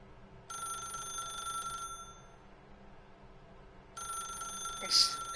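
A telephone rings in The Stanley Parable video game, two bursts of a bright electronic ring separated by a pause, moderately loud against a quiet room tone.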